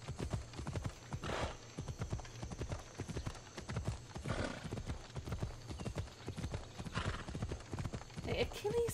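A horse gallops and neighs in a video game, with steady rhythmic hoofbeats throughout and occasional whinnies, loud and continuous under game sounds.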